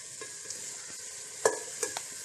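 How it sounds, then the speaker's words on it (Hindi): Chicken fries in a pan for biryani with a steady, bright sizzle, broken by a couple of sharper knocks and scrapes as it is stirred. "इसे अच्छे से फ्राई करेंगे।"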